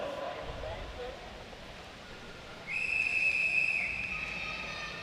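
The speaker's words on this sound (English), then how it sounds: "riders are going to come through and get the whistle for the second intermediate sprint now" Referee's whistle signalling an intermediate sprint at a track cycling race, one long, steady, shrill blast that starts mid-clip and carries through crowd noise in an indoor velodrome.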